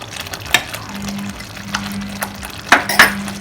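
A spoon scrapes and clinks against a pan while pav bhaji masala is mixed with vegetables and water, giving soft sloshing and a few sharp metallic taps at close range.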